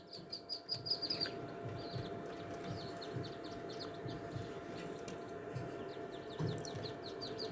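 Carolina wood duck ducklings, newly hatched, keep up a steady stream of high, thin peeps and chirps, close and continuous over a low background rumble.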